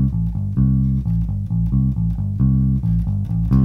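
Bass guitar playing a riff, a short repeating pattern of sustained low notes in a steady rhythm, close and clear with no talking.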